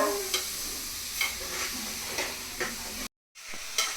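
Carrot for a sweet being stirred and fried in a pan, with a steady sizzle and regular scraping strokes of the spoon, a brief silent gap near the end before the sizzling resumes.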